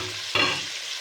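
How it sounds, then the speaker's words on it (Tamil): Tomatoes drop into ginger-garlic paste frying for chicken dum biryani, setting off a sudden close burst of sizzle that settles into a steady hiss, with no voices. "ஸோ இப்போ நம்ம தக்காளி சேர்க்கலாம்."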